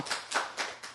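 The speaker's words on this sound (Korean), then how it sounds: "스님, 박수 한번 칠까요?" Hands clap four times in an even rhythm during a Buddhist teaching session, each clap soft and slightly distant, with no talk over them.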